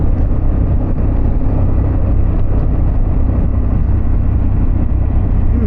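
A Harley-Davidson Pan America motorcycle engine fitted with an Akrapovic exhaust drones loudly and steadily at close range, a dense, continuous low rumble with no talk.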